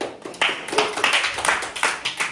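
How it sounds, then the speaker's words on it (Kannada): Several people clap their hands in quick uneven bursts at a birthday gift-guessing moment, the claps close and fairly loud, a steady patter running through the whole short stretch with no voices over it. "ಹೊಡಿರ ಚಪ್ಪಾಳೆ."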